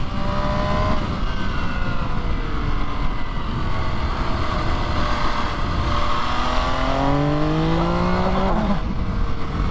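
MV Agusta Brutale 800 RR Ottantesimo special edition motorcycle engine revving hard, a loud, continuous rising and falling howl with pitch climbing through the revs, then dropping as the rider eases off near the end.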